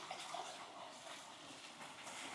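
Clear mountain waterfall running beside a roadside, only flowing in the rainy season, heard as a faint, steady broadband rush of falling water without a break.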